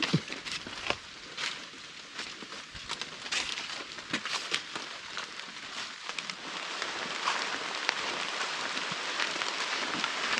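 Rain falls in a steady, crackling patter that lasts throughout and builds slightly toward the end, with scattered louder drops and no speech.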